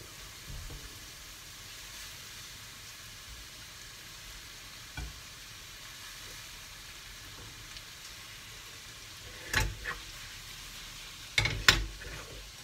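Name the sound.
sausages browning in a pan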